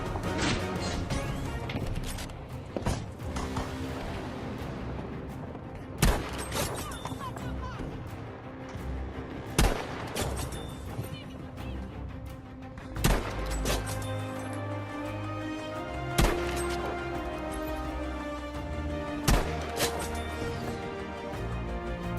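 Battlefield V gunfire rings out as loud, sharp shots spaced every few seconds over a steady bed of game music and ambience, each crack standing clearly above the background.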